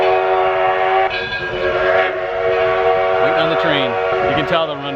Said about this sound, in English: can tell they're running 2 trains today because that thing never shuts up